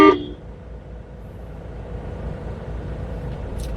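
A single short car horn toot sounds at the start during a driving lesson, followed by a low, steady engine rumble.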